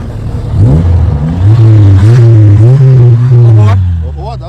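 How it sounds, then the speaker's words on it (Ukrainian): A 1994 Opel Astra F engine revs up loudly several times in quick surges, rising and falling in pitch before settling back to idle, close by. "Трошки наступи, послухаємо, як працює цей двигун."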